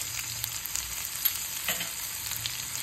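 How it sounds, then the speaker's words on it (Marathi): Cumin seeds and crushed green chillies sizzle in a little hot oil in a kadhai (wok), a steady soft crackle with scattered pops, fairly quiet and close, with no voices. "आता याच कढईमध्ये अगदी 2 छोटे चमचे मी तेल घेणार आहे. तापल्यावर त्याच्यामध्ये 2 टीस्पून जिरं घालूया, 2 हिरव्या मिरच्यांचा क्रश"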